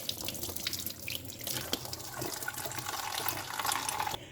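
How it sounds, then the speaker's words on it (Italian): Hot water runs from a kitchen tap into a sink, a continuous close rushing stream with small splashes and drips, steady for a few seconds before cutting off at the end. "Vedete, c'è incrostazioni comunque di calcare e sono sporchi, quindi preparo acqua calda."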